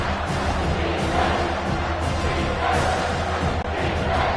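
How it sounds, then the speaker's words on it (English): A stadium crowd in EA Sports College Football 25, during a Cincinnati Bearcats versus UCF Knights game, roars steadily as a dense, continuous wash of cheering that swells slightly and stays loud throughout, with no clear talk. "The crowd elevating its energy, willing this defense to get a stop on this big third down"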